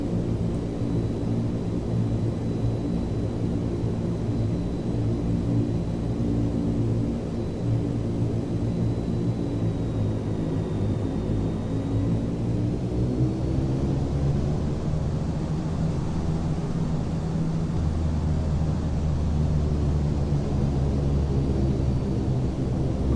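A propeller aircraft engine in Flight Simulator X drones steadily while taxiing, a loud, continuous low rumble with a shifting hum and no voices.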